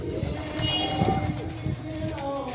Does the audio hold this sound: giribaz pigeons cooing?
yes